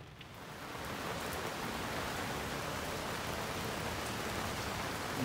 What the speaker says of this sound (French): La pluie est incroyable.